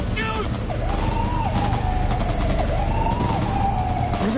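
Shootout gunfire in the video game Cyberpunk 2077, steady rapid shots throughout, loud and mixed with a wailing siren and game sound.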